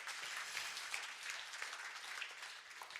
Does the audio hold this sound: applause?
yes